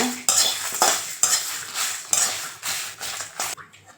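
Dried red chillies roast in a dry pan for pepper kuzhambu. A metal spatula scrapes and clatters against the pan in about five quick, close, loud strokes.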